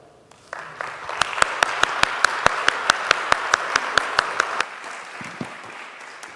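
Audience applause welcoming a keynote speaker at an academic conference, rhythmic unison clapping with evenly spaced loud claps for about four seconds before fading into scattered claps and murmur.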